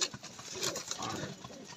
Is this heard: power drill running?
no